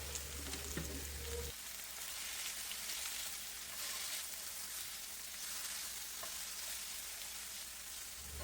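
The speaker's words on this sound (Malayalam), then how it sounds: "അപ്പോൾ ഇതൊന്ന് ചെറുതായിട്ടൊന്ന് വഴറ്റിയെടുക്കട്ടെ." Ingredients for a cabbage chutney sauté in coconut oil in a pan, a soft, continuous crackle and sizzle with occasional stirring, quiet and close, without any talking.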